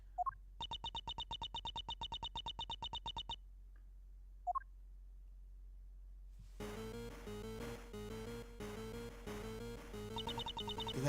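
A cell phone rings in a game scene, with a quick train of electronic tone pulses and a couple of short chirps, followed by music swelling up after the ringing.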